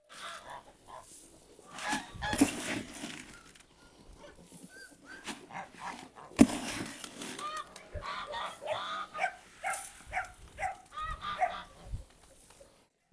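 A French farmyard with chickens, geese and ducks, plus pigeons and goats nearby, gives a busy mix of clucks, honks and squawks, with dogs barking among them and now and then a person talking.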